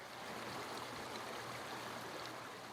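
Water pours steadily back into a freshly cleaned pool, a continuous close rushing and splashing wash with no pauses and no talk.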